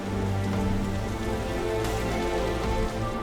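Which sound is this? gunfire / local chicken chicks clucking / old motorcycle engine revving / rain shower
rain shower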